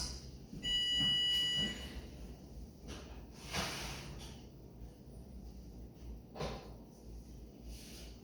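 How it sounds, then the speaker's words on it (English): A short electronic oven timer buzzer sounds near the start, followed by faint clatter and soft bumps in a quiet room. "There's the buzzer, so let's take it out."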